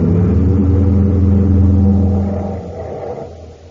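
A car engine revs loud and close as a radio drama sound effect, a deep rumbling roar that holds steady and then slowly fades away over the last second or so.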